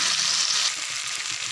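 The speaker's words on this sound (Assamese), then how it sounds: "পিচি থোৱা মছলাখিনি এতিয়া একদম ধুনীয়াকৈ ভাজ খাবলৈ দিম।" Ground spice paste fries with mutton in a pan, giving a close, steady hiss that is bright and loud at first and then settles slightly quieter, with no talking.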